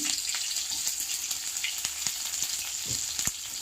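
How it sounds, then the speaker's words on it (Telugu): Onions fry in hot oil in a pan with a steady, close, hissing sizzle and occasional soft stirring taps. No talking is heard. "ఆనియన్స్ వేసుకున్న తర్వాత ఆనియన్స్ని ఫ్రై చేసుకోవాలి"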